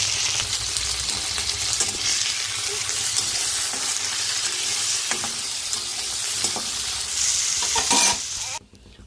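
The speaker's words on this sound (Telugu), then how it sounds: "పచ్చిమిరపకాయలు టమాటాలు కూడా బాగా ఫ్రై చేసి వస్తున్నామండి" Green chillies and tomatoes fry in a pan for a cucumber chutney. A loud, steady sizzle runs under frequent stirring scrapes, then cuts off abruptly near the end.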